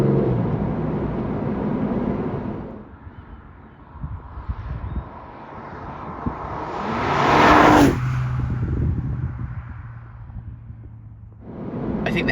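Porsche 911 992.2 GTS Targa T-hybrid engine revving, a loud car engine sound that swells, peaks in a strong rev and then drops away to a lower drone.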